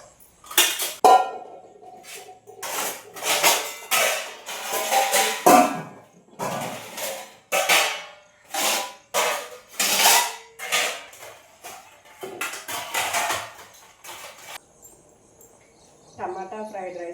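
A steel pot of rice being handled on the stove in a home kitchen, giving a run of sharp metallic clanks and scrapes in uneven bursts, close and fairly loud, with someone talking in between.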